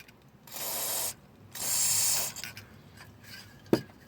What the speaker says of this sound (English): we can then re-lubricate with some Teflon dry lubricant that will not attract the dirt